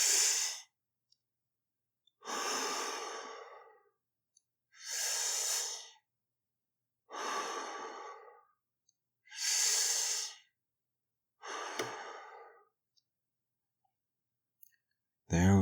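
Slow, deep breathing up close, six long airy breaths in and out at an even pace with silent pauses between them.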